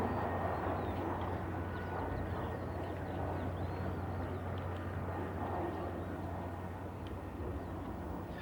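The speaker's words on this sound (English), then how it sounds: "the L410 turbolet light transport aircraft is a good performer in its own right" An L410 Turbolet light transport aircraft flies at an air show, its turboprop drone steady and fairly distant, blending into a broad, even roar with no break.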